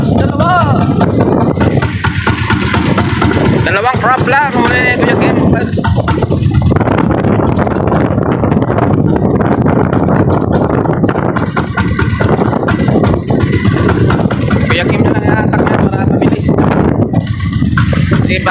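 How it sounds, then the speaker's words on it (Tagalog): Strong sea wind roars and buffets constantly during net fishing for crabs out on the water, a loud, unbroken rush with voices talking over it. "Lakas ng hangin."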